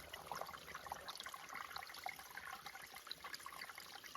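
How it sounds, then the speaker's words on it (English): Creek water running off a leaf on a trail near Mt. Mitchell, a soft continuous trickle and splash, faint and steady with no talking. "get the back of the leaf under the water, and the water will run out the leaf and make you a better flow"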